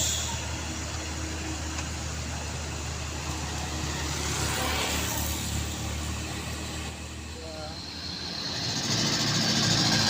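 A heavily loaded diesel truck climbs a steep uphill road with a steady, droning engine roar that builds toward the end, heard up close.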